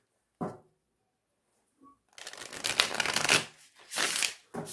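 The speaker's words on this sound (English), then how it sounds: "Me and riffle shuffling, best buds. Riffle and bridge. This deck is just so fun to shuffle." A tarot card deck is riffle shuffled and bridged up close: a quick tap, a pause, then a long buzzing flutter of cards followed by a shorter second riffle burst, with no talking.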